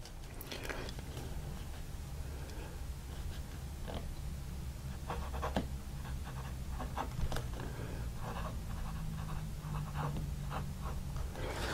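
A Wingsung fountain pen nib scratches across paper in quiet, close strokes, faint intermittent scritching and taps with short pauses between marks.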